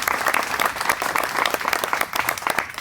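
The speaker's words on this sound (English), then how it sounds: "you deserve a lot of applause for that" Loud, sustained applause from a large crowd at a pasta dinner event, dense clapping filling the whole stretch without letup.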